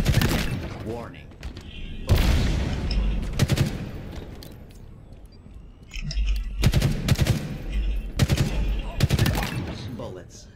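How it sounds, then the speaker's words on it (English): Gunfire in the video game Halo Infinite during an online match with bots: loud bursts of automatic fire in repeated volleys, separated by short gaps, up close. "I'll just keep shooting."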